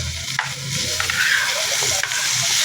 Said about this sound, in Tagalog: Okay, lagay na natin yung ating karne.